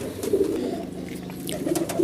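Pigeons coo in low, soft, throaty repeated calls, close by, with a faint background hum.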